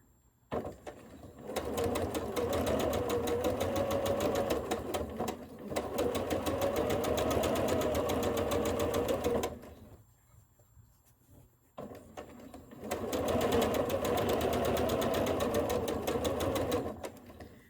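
A sewing machine runs steadily while stitching a curved quilt seam through layered fabric, in two long continuous bursts of rapid needle chatter separated by a short pause, close and fairly loud with no talking.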